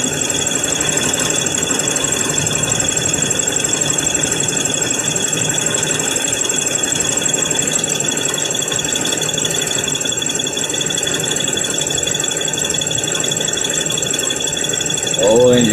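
A car engine idles roughly and steadily with a rocking, uneven beat, a broadband mechanical drone with faint higher whine, close and continuous with no talk over it.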